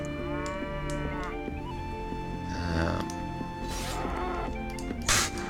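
Cattle lowing in the Mount & Blade: Warband Viking Conquest video game, repeated moos layered over steady game ambience and a continuous droning background, with a brief louder knock near the end.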